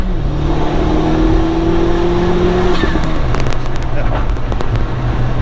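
A Vauxhall VXR fitted with a new turbo and EDS manifold holds steady high revs through the gear, a loud sustained engine drone that shifts pitch partway through, with voices speaking over it.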